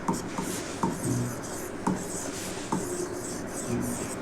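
Pen writing days of the week by hand on paper, scratchy strokes in short repeated bursts with small taps between words, close and fairly loud, no talk.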